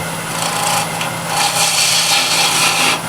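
Sanding by hand along a wooden edge and the transition of a beginner's woodworking project, heard up close as a steady, continuous scratchy rasp that swells slightly in strokes.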